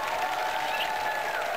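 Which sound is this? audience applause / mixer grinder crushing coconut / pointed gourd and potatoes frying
audience applause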